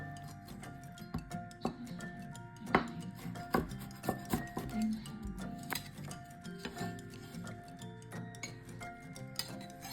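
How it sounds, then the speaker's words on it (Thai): Repeated sharp knife strokes slicing chili peppers on a cutting board, irregular chopping taps close by with a steady background hum, no voices. "การหั่นพริกก็ตามใจชอบเลยนะคะ"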